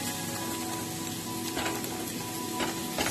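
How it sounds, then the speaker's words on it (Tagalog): Onion and garlic brown in a hot pan with a steady, crackling sizzle, close by and continuous, with a few louder pops and spatters and no talking. "hayaan lang natin siyang mag-brown ang ating onion and ang ating garlic"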